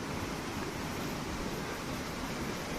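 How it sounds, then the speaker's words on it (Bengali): Water rushes steadily over a jungle waterfall in hill country, a constant broadband roar that stays even and unbroken from start to finish, with no voices. "এটা জিরি, ঝর্ণার আওয়াজ।"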